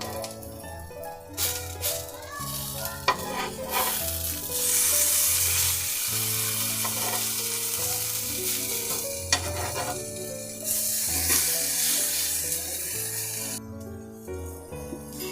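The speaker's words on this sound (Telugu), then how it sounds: "ఇప్పుడు ఇంకొంచెం నూనె వేసుకొని ఇంకొక సైడు ఫ్రై చేసుకోవాలి." Green banana slices shallow frying in oil in a pan, a continuous loud sizzle broken by occasional utensil clinks and scrapes as the slices are moved and turned, with no voices.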